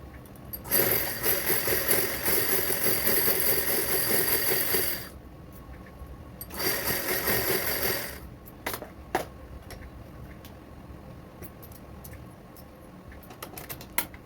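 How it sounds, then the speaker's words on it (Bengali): Sewing machine stitching a border onto a saree at home, running in two loud, steady bursts of rapid stitching with a pause between, then stopping, leaving only scattered faint clicks and handling noises nearby. "এবার আমি সেলাই করব"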